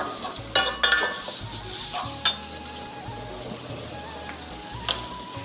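Chicken curry with ginger paste and garam masala sizzles softly in a pan while a spoon stirs and scrapes, giving sharp metallic clinks and knocks over the steady frying hiss, with no talking.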